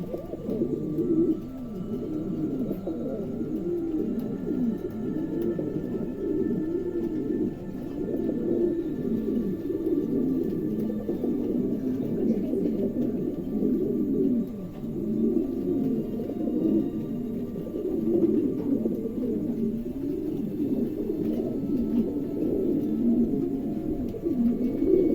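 Show-quality pigeons coo continuously in low, throaty, overlapping calls, steady and close for the whole stretch with no talking.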